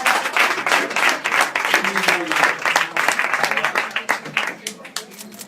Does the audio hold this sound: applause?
yes